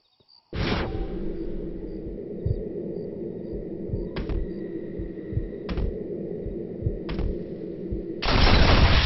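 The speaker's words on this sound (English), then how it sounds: "See if this Schofield makes a difference. Now that's a real gun." Schofield revolver fired in Red Dead Redemption: several sharp, loud shots spaced a second or two apart over a steady game ambience, followed by a burst of broadband noise at the end.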